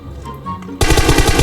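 Loud, rapid automatic gunfire from the mobile battle-royale game PUBG Mobile bursts in suddenly and keeps going in a dense, fast stream of shots.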